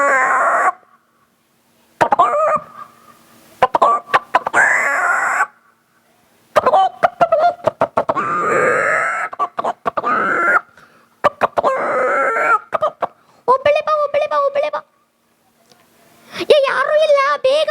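A voice mimics a rooster calling to a hen, with crowing and clucking bursts broken up by short pauses and spoken talk, loud and close, ending in rapid warbling cackles.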